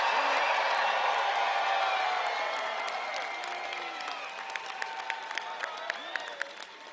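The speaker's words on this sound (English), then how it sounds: "Let's do one big team cheer." At a State Summer Games opening ceremony, a large crowd of athletes and spectators lets out a big team cheer. It erupts loudly, then fades into scattered claps and whoops.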